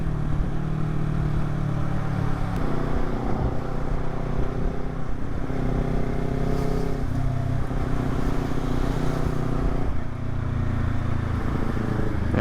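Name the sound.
traffic of cars and semi-trucks passing on the road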